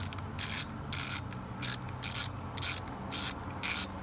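A new Craftsman gunmetal chrome mechanic's ratchet from an 81-piece set clicks in about seven short bursts of crisp, close pawl ratcheting, spaced at a steady rhythm with quiet gaps between.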